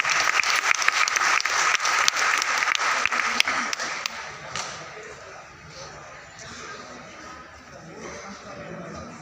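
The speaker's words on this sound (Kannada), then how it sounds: "ನಿಮ್ಮೆಲ್ಲರ ಚಪ್ಪಾಳೆಯೊಂದಿಗೆ" Audience applause at a folk dance world record medal ceremony, steady and full for about four seconds then fading into murmuring crowd ambience.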